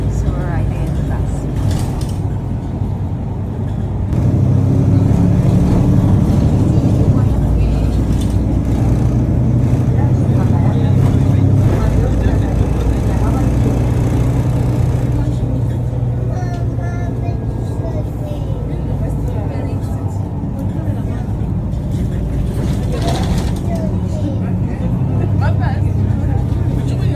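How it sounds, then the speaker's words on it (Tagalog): The engine hum and rumble inside a city bus riding through Valencia, Spain, a steady low drone that rises as the bus gets underway, with faint voices at times. "So we're riding in the bus."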